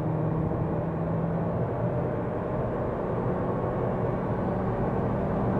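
A 2018 Mazda 3 sedan with a 1.5-litre Skyactiv-G petrol engine accelerating hard after a quick downshift, a steady droning engine and road rumble heard from inside the cabin at constant loudness.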